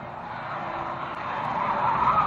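Race car at an oval track spinning round in a corner, a continuous loud tyre skid and engine roar that swells toward the end, with no voices.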